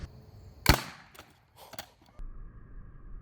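A potato gun fires at an old computer monitor, giving one sharp, loud crack and impact, followed by a few lighter knocks and clatters, then a low steady hum.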